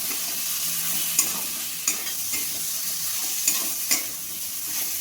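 Chicken sautéing in a pan with coriander powder, cumin powder and chicken masala, giving a steady broadband sizzle with periodic stirring scrapes, close by and with no talking.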